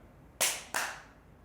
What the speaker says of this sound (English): And then clap.